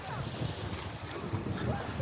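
Strong wind buffets the microphone on a beach during kite flying, a continuous rough roar with gusty low-end thumps throughout.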